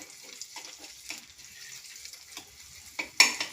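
An omelette flips in a frying pan, with quiet sizzling and a short clatter of the turn near the end.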